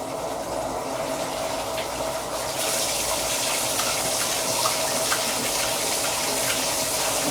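Water runs hard from a tap while dishes are washed, a steady rushing gush that gets brighter and a bit louder partway through and keeps on without speech.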